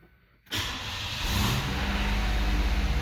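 A 1987 Oldsmobile Delta 88 engine starts abruptly after a brief quiet moment, then settles into a loud, steady idle with a slight rhythmic pulse, close to the listener.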